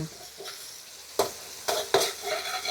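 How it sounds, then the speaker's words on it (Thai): Pounded chili and garlic stir-fried in a pan: a soft sizzle under a few sharp scraping stirs of the spatula, close by, with no talking. "ใส่ อ่าพริกกระเทียมที่เราตำไว้ค่ะ ลงไปผัดเลยค่ะ"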